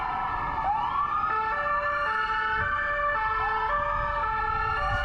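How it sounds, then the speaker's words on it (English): American police car sirens wail and yelp through a street, several overlapping rising and falling tones with a steady two-tone pattern, loud and continuous over a low traffic rumble, no voices. "you hear those American sirens?"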